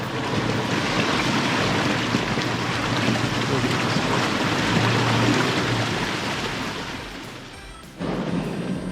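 A vehicle pushes through a long creek crossing on Reynolds Track in Litchfield National Park, a continuous loud rushing wash of water and engine noise under wind buffeting that eases off, then cuts back in sharply near the end.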